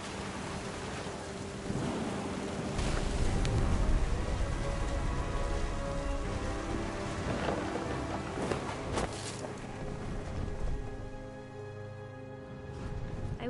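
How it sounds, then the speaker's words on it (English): A stormy scene in the video game What Remains of Edith Finch: steady rain pours with occasional rumbles of thunder, and soft sustained musical tones play underneath. "Thunder sounded much too close and full of angry power"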